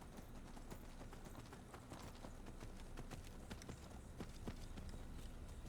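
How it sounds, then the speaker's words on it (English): Horse hooves galloping in the video game Skyrim, a rapid, faint clip-clop of hoofbeats at an even pace over a dull rumbling background, continuous throughout. "I will sprint my horse until I run out of stamina to kind of speed it along."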